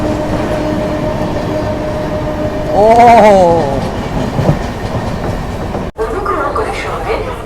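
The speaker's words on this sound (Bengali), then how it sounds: "এটাই হচ্ছে ভারতবর্ষের দ্রুততম লোকাল ট্রেন, যেটা কিনা Howrah Bardhaman cord line super বলেও পরিচিত।" A Howrah–Bardhaman chord line local train, the fastest local service in India, runs with a steady, close rumble of wheels and carriage noise. A brief tonal call rises in the middle, and a short voice is heard.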